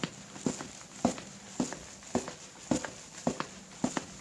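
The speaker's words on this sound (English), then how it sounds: "I think I hear footsteps." Footsteps just outside a door land at a steady walking pace, about eight muffled thuds spaced roughly half a second apart, moderately close, with no one talking.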